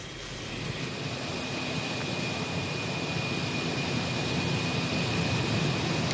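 A helicopter filming the Giro d'Italia 2014 stage 2 peloton drones steadily overhead, a constant, even roar with a faint whine running through it and no voices.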